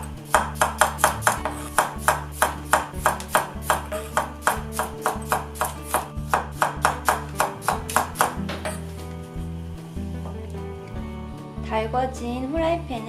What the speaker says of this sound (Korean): 마늘부터 썰어 볼게요.